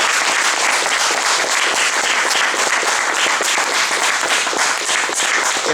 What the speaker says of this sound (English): Let's give Tessa a round of applause.